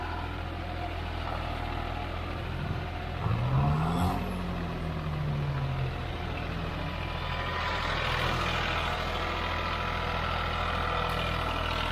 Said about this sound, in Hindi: ट्रैक तैयार करते हुए ट्रैक्टर कंपटीशन के लिए।